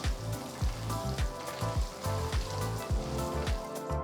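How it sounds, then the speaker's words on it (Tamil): Slit green chillies and chopped ginger sautéing for rava pongal, a continuous crackling sizzle in the pan with repeated low scraping strokes of stirring, close and steady, with no speech. "2 கீறின பச்சை மிளகாய், பொடிசா நறுக்கின 1 துண்டு இஞ்சி சேர்த்து நல்லா வதக்குங்க"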